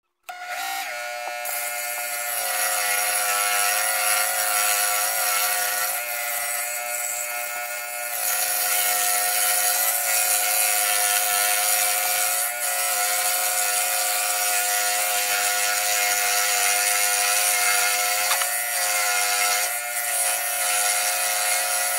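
A spiral saw blade cuts straight across the grain of a wooden board, making a steady, close, raspy buzzing with a sustained tonal whine. It runs continuously for about twenty seconds, broken only by brief dips.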